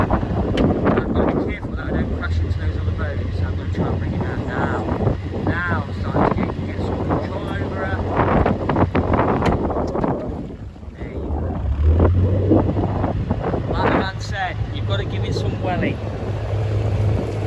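Wind gusts buffet a narrowboat on a canal as it is steered hard among moored boats, a steady low rumble of wind and engine running throughout beneath someone talking continuously.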